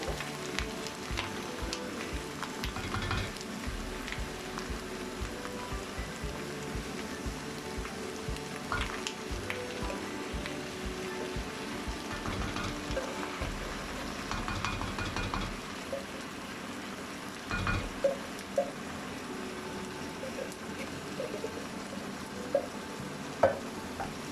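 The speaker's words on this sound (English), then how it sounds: "Give it a good stir and then let it cook." Courgette curry with coconut milk stirred in a cooking pot: steady soft scraping and sloshing with a faint sizzle underneath, a few light clinks of the utensil against the pot toward the end, no talk.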